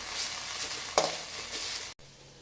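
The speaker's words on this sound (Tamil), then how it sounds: "இப்போ இந்த கருவேப்பிலையை வானலில் சேர்த்துக்குவோம் இந்த ஈரம் போகிற வரைக்கும் இதை நல்லா வறுத்து எடுப்போம்" Curry leaves frying in a hot kadai: a continuous close sizzle with a sharp clatter partway through, then the sound cuts off abruptly before a quieter, fainter hiss returns.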